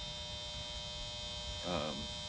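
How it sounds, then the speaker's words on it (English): A steady electrical hum with a buzzing, tonal edge drones throughout, loud and constant, from a big 1,000-watt metal halide lamp nearby. "I apologize for the noise of the light"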